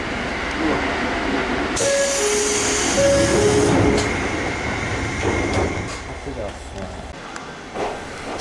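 An Ohmi Railway local train rumbles steadily along the track, heard from inside the carriage with rising and falling mechanical hum and occasional tones, close and fairly loud.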